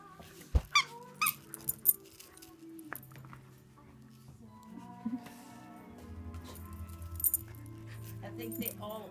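Squeaky cushion toys give several sharp, high squeaks in quick succession, close by in a home at Christmas, followed by people talking and a dog moving around.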